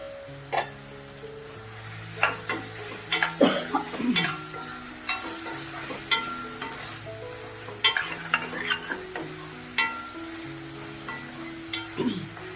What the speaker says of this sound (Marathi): आता आपण टोमॅटो घालून घेऊया. आणि थोडी कोथिंबीर.